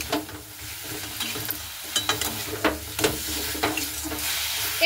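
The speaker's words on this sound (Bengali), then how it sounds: "মশলাটার সঙ্গে খুব ভালো মতো করে একটু নাড়াচাড়া করে নেব" Cooked kohlrabi stirred and fried in a spice paste, steady close sizzle under repeated scraping strokes of a spatula, with no talk.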